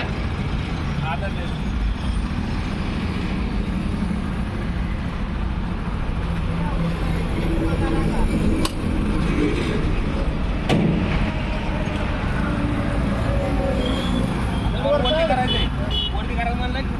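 A two-wheeler motorcycle rigged with a dumping trolley runs its engine with a steady, rough drone and occasional revving, with someone talking over it close by.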